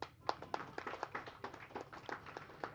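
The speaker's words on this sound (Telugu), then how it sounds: "ఒకసారి అందరూ క్లాప్స్ కొట్టాలండి" An audience at a Telugu film event claps, a scattered, moderately distant round of hand claps with uneven rhythm, no speech over it.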